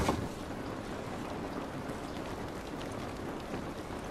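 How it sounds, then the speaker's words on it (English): Steady rain in the video game The Last of Us Remastered, an even wash of hiss that holds at one level throughout, with a slightly louder burst at the very start and no voices. "This rain ain't gonna do us any good."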